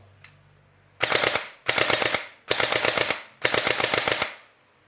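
Airsoft gun firing full auto in four separate bursts, each a rapid string of sharp cracks lasting about half a second to a second, loud and close, with a short pause between bursts.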